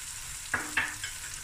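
Golden-brown onions fry in a hot pan as a utensil stirs them twice, giving two short scraping clicks over a faint steady sizzle.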